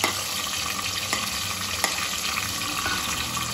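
Chopped tomatoes sizzle and spit in a hot pan with browned mince koftas, a steady frying hiss broken by occasional scrapes and clinks of a spoon stirring, close and without talk.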